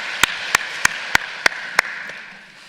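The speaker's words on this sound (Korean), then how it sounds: "우리 하나님께 영광의 박수를 드립니다." Six sharp, evenly spaced claps ring out in a church sanctuary during a Sunday worship service, each crisp and close, then stop, leaving a quiet, reverberant room.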